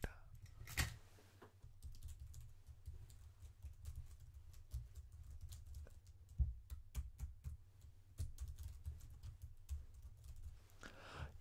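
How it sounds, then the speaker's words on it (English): Soft, close clicking of fingers typing on a computer keyboard in an ASMR setting, a quiet irregular patter of keystrokes with occasional louder taps under intermittent soft-spoken talk. "Let me just type on my keyboard."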